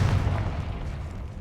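A fiery Confringo spell blast in the Hogwarts Legacy video game rumbles as a deep, booming explosion that starts loud and decays slowly over about a second and a half, with no talk over it.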